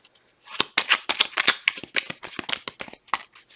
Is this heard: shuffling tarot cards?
yes